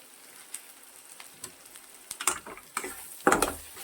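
Spiced sprouted matki masala sautéed in a pan with coriander powder gives a faint sizzle dotted with light ticks and spatula scrapes that grow louder and denser near the end.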